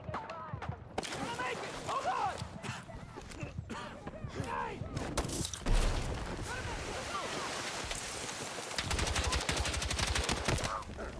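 Rapid bursts of automatic gunfire from a shooter video game crackle in repeated volleys, dense and steady toward the end, with a player's voice talking now and then between the shots.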